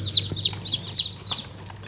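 Day-old chicks peep in a run of sharp, high calls, about six bright bursts close by, with faint soft shuffling beneath as the chicks are handled and moved.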